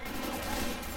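Continuous turret gunfire in Left 4 Dead 2, a dense, loud, unbroken stream of rapid shots filling the whole moment without any talking.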